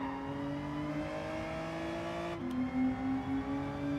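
A Hyundai Elantra race car engine in Gran Turismo 7 drones steadily at high revs, with a brief pitch drop and shift near the middle before it climbs again, loud and continuous with no talk.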